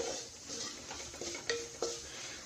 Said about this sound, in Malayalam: ഗരം മസാല ചേർത്തിട്ട് നന്നായിട്ട് മിക്സ് ചെയ്ത് കൊടുക്കാം